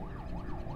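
An ambulance siren in a video game wails in steady rising and falling sweeps, loud and continuous over a low rumbling background.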